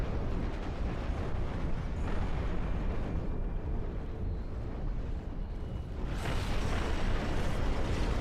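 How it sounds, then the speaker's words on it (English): A bombing run in the video game Ashes of the Singularity 2 brings dense, continuous rumbling explosions, loud and booming throughout, with a fresh surge of blasts near the end. "The Phoenix bombing run. Just when you thought we didn't have enough bombs, we added some more bombs."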